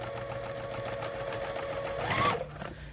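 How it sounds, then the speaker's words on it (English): A sewing machine runs steadily through a pieced quilt block, a close, continuous whir with rapid needle ticks that builds slightly near the end before easing off. "you're going to just sew on that side of the line"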